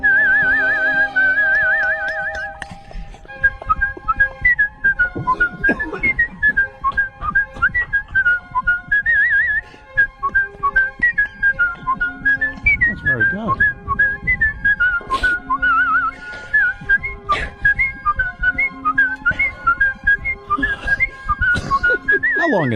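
A man whistles a song solo in a radio studio, a clear, instrument-like melody with vibrato and sliding pitches, held notes and quick runs, close and loud with no talking over it.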